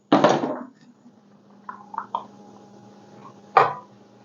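Chopped onions dropped into heating olive oil in a pan for a spaghetti sauce, a sharp sizzling splash at the start, a few soft utensil clinks, then another brief hiss near the end over a low hum.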